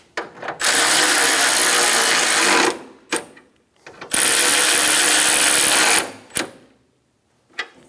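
A ratchet snugs down the oil cooler bolts on a 1988–1999 GMC K1500, two long rapid clicking runs of about two seconds each, loud and close, separated by brief quieter clicks and pauses.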